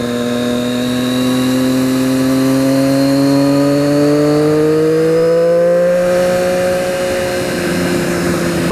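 A 2013 Triumph Daytona 675R motorcycle is ridden hard, its engine whining loudly and steadily with rising pitch through the gears, heard close from the bike itself.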